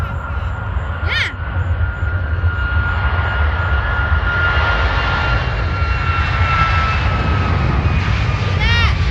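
An Alaska Airlines airplane at John Glenn International Airport produces a loud, steady engine roar with a high whine, heard nearby and continuous throughout, with a bird call briefly audible.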